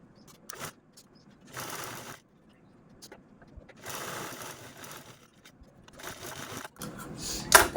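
Short bursts from a sewing machine stitching a fabric cap made from a reused blouse piece, four whirring runs separated by pauses, close and moderately loud with no voices.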